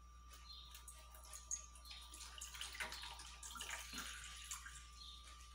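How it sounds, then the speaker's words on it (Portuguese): Water poured into a cooking pot for a stovetop pudding, a faint, steady splashing and trickling with a low hum underneath. "vamos colocar um pouco de água"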